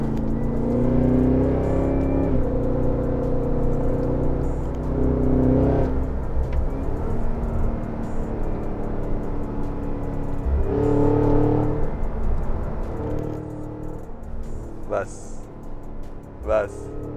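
A Cadillac Escalade-V engine revving with exhaust popcorn pops, loud deep rumbling revs rising and falling with crackling pops near the end, under continuous talk.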